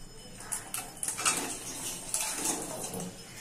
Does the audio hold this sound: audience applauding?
no